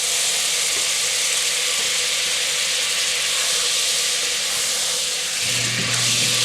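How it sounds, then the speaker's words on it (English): Butter sizzling in a hot pan before collard greens go in: a steady, bright hiss fills the whole stretch, close and even, with a brief low hum near the end. "First thing we're going to do is get our butter in"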